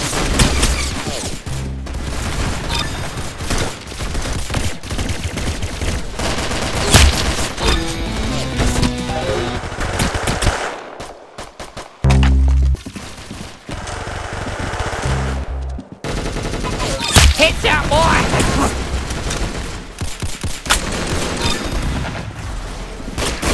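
Rapid automatic gunfire in the Roblox shooter Arsenal, with dense bursts of shots and booming impacts filling most of the stretch, loud and close, broken by a couple of brief pauses and no talking.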